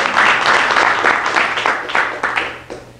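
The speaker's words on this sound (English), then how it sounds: "let's give our mentors a round of applause" An audience at a startup competition demo day claps for the mentors, a fairly close burst of many hands that swells and then gradually thins out over three seconds.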